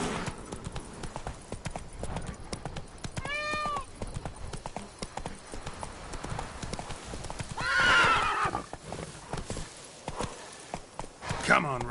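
Geralt's horse Roach in The Witcher 3: Blood and Wine clip-clops steadily throughout, letting out a sharp whinny early on and another neigh later, with game sounds around it.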